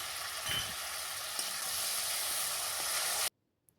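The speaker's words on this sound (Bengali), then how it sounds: "বেশ ভালো করে মশলাটাকে কষিয়ে নিয়ে ওতে দিয়ে দিল টমেটো পেস্ট" Spices cooked down with tomato paste in a pan give off a steady, close sizzle and hiss with a little stirring. It runs unbroken for about three seconds and then cuts off abruptly.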